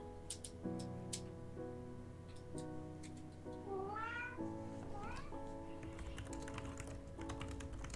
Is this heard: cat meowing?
yes